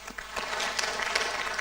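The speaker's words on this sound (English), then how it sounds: "A round of applause for our panelists." An audience at a Women's Day celebration claps for the panelists, a short, fairly dense burst of applause.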